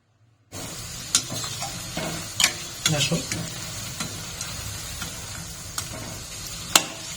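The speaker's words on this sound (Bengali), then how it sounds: "তেল একদম তেতে গেছে দেখো এখন আমি এক এক করে বড়াগুলো করছি" Sweet urad dal fritters drop one by one into hot oil and fry with a continuous close sizzle, punctuated by sharp taps and clinks of a utensil after a brief silent start.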